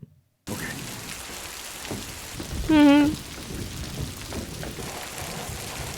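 Heavy rain falls steadily in a movie scene, a constant hiss broken by a brief rising tonal cry midway, with a short murmur of agreement from a listener.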